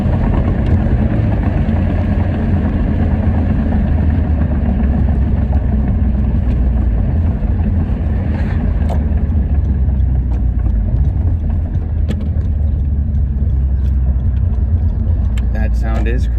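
A Honda Civic Type R FK8 fitted with a PRL high volume intake rumbles continuously and loudly nearby, a steady deep engine drone with no clear breaks.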